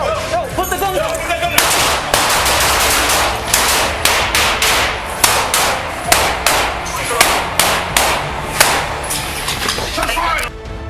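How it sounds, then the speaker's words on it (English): Gunshots fired at police officers, caught on police dashcam: a rapid series of sharp, loud close-range bangs in uneven bursts, alongside voices. "At close range, the man fired multiple times."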